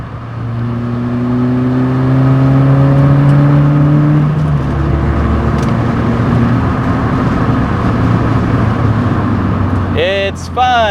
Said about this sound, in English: Do a little downshift.